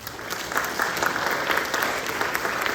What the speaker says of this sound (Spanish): Para todos ellos, gracias y un aplauso.